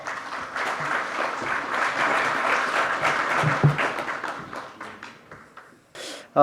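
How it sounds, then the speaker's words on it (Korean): An audience applauds to welcome the third presenter, a North Korea research centre director, at a seminar on the Five Northern Korean Provinces committee; steady clapping fades out, then brief noise and a tonal sound at the end. "박수로 맞이해 주시기 바랍니다"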